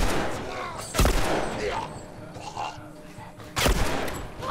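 Gunfire in The Last of Us Remastered, a few heavy, booming shots spaced apart, loud and close, over dense game ambience and rumble.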